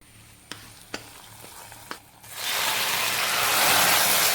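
A few light utensil clicks, then a loud, steady sizzle erupts and holds as a hot tempering of fenugreek, mustard seeds, sliced shallots, dried red chillies and curry leaves is poured into an okra curry soured with kudampuli.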